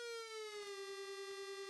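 The Siren Head siren in a video game: a single sustained, droning siren tone holding steady and slightly falling, faint and distant with a faint pulsing texture underneath.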